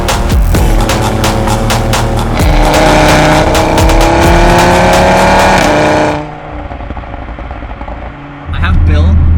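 A 600-horsepower Stage 2 Audi RS3 accelerates hard, its engine note loud and close and rising for about six seconds before easing off, then a burst of throttle returns near the end, with voices under it.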